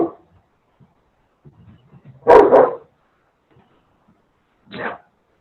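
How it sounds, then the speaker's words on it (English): A dog gives a loud burst of barking in a quiet room, followed a couple of seconds later by one shorter bark, with a few faint small sounds before it. "Oh, cute puppers. So loud."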